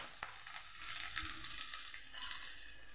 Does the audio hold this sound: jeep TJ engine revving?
no